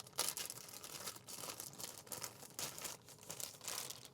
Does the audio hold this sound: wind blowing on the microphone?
no